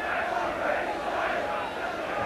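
A football stadium crowd at an Exeter City match in the 1989/90 season roars in a dense, sustained wall of noise after a yellow card, loud and continuous throughout.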